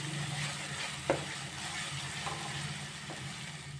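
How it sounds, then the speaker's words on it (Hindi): Ginger-garlic paste fries with onions in a steady, fairly quiet sizzle, broken by a few faint clicks from the spoon stirring the pan. "इसको भी चंद सेकंड के लिए हम प्याज के साथ भून लेंगे ताकि इसका कच्चापन दूर हो जाए।"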